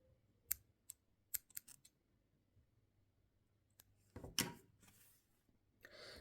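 Scissors snip thread in Turkish needle lace (iğne oyası) work, a few crisp, close clicks spaced apart, followed by a brief rustle of handling in a quiet room.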